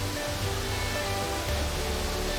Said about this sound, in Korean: 귓가를 때리는 시원한 폭포 소리를 들으며 자연과 어우러질 수 있는 기회다.